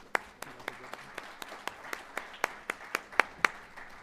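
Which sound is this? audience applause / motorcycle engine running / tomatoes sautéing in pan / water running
audience applause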